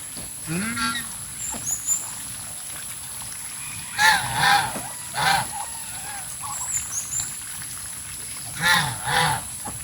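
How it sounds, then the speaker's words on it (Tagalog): Several geese honk in short bursts, some near and some farther off, with loose gaps between calls and a faint high hum in the background. "Ang gansa. Andun pang gansa."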